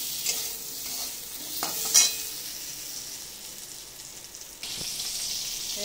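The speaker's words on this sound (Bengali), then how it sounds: "পটলটা ভেজে নিচ্ছি" Sliced pointed gourd (potol) frying in oil in a pan, with a steady sizzle broken by a few sharp scrapes and clatters of stirring.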